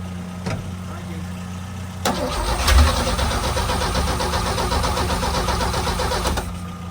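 A 1966 Chevrolet C10 pickup engine cranks and catches after a long layup. It turns over near the two-second mark, then runs on with a steady, rough idle for several seconds before cutting off.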